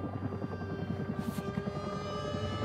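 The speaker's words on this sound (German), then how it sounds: "Was macht der Heli da hinten?" Helicopter in the horror video game Still Wakes the Deep, a steady rotor chop with droning engine harmonics, moderately loud and continuous throughout, with a brief hiss of wind or spray midway.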